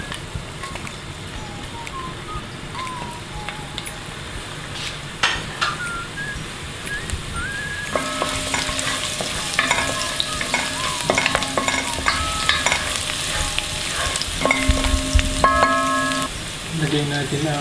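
Garlic being stir-fried in cooking oil for chicken feet adobo, a steady sizzle and frying crackle with stirring clatter, busier in the second half, and no talk over it.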